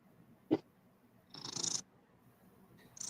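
A cat purrs faintly in a quiet room, with a soft thump and brief hissy bursts breaking the low, close rumble.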